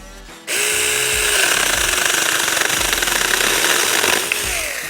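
A Saker 4-inch electric battery chainsaw cutting firewood: after a brief pause the small motor kicks in with a loud, close, steady high-pitched whine and buzz that holds for about four seconds, then winds down.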